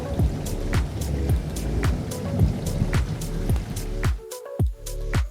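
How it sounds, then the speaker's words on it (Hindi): A small, shallow stream runs down from the mountain on the Harihar Fort trek in Maharashtra. It makes a steady close wash of water, broken by repeated sharp splashy knocks and a brief quieter dip near the end. "पहाड़ के ऊपर से आती हुई नदी की ये छोटी सी धारा"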